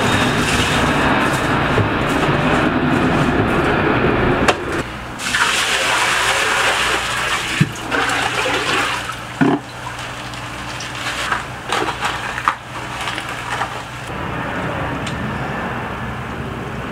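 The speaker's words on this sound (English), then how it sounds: "time to put in the gravel" Gravel poured into a freshly cleaned fish tank, a steady rushing, gushing pour that runs throughout, with a few brief knocks and clatters over it.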